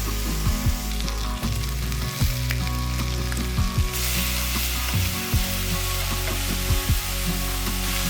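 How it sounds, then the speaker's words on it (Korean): Bacon and eggs sizzle in a frying pan, cooked gently rather than crisp, giving a loud, steady crackle with occasional sharper pops throughout. "베이컨은 너무 바싹 굽지 않고 계란도 부드럽게 살짝만 요리해 줄게요."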